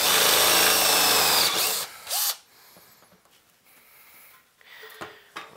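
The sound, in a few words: power drill drilling larger holes with a bit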